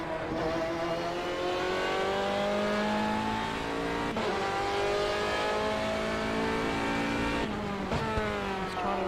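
A GT3 race car at Mugello Circuit in a racing video game, engine droning steadily in third gear with rising and falling harmonic pitch, loud and continuous, with brief gear-change dips and no talk over it.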